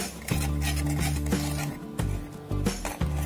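Garlic chutney with curd being stirred in a pan over low heat, a spoon scraping and clinking steadily against the metal with a faint sizzle underneath, continuous and close, no talking.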